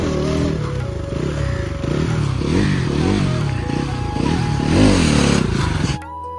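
A motorcycle engine revs loudly and unevenly as the rider lifts the front wheel, rising and falling in pitch for several seconds before dropping off abruptly near the end.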